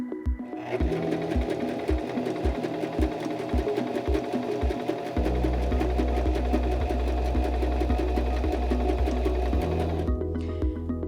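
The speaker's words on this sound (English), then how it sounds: "place your fabric under the presser foot and lower the presser foot to start sewing" A Singer M3300 sewing machine stitches a multi-step zigzag stitch: a close, rapid mechanical chatter of needle strokes that starts up, shifts to a heavier running hum midway, then stops near the end.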